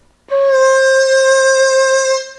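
A single sustained Chinese bamboo flute note, played with the tuning joint pushed in, clear and steady, held for about two seconds before stopping.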